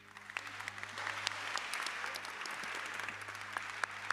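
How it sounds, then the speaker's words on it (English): An audience at a civil engagement event led by the ANC president applauds the panel with steady, crackling clapping that builds slightly and carries on without speech. "Let's give another round of applause to the entire panel"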